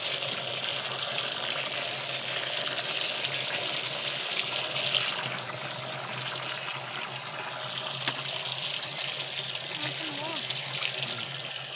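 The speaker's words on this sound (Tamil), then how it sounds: "இது 200 லிட்டர் தண்ணி பிடிச்சிடும்." Tap water pours steadily into a 200-litre plastic barrel, a continuous hissing gush that runs unbroken throughout, with faint background voices under it.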